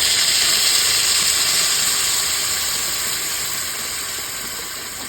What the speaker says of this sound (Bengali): এবারে কিন্তু আমি জলটা দিয়ে দেবো পরিমাণ মতো